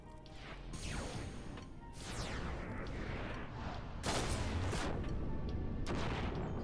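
A sniper shot rings out in a video game cutscene in Final Fantasy XI: loud sharp cracks and crashing impacts over a dense, noisy cinematic sound bed, with several bright bursts through the clip.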